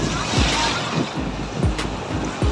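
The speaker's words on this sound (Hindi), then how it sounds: "देखते हैं ये वाला वेव क्या करता है।" Ocean waves break and wash in around someone standing in shallow, roughly waist-deep water off Gokarna Beach. A steady roar of surf and wind buffets the microphone close by, with no voices.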